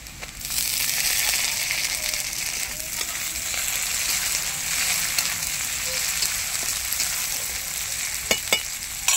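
Chopped tomato and green chili with onions sizzling and frying steadily in a pan, a continuous close crackle with a few sharp clinks of stirring near the end.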